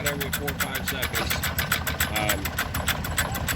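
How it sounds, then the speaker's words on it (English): An antique spark-ignition engine with a flywheel-weight governor, running slowly and firing only every few seconds; a steady, rapid mechanical clatter continues throughout. "the spark plug is not going off very often at all here. No, it only fires about every 4 or 5 seconds."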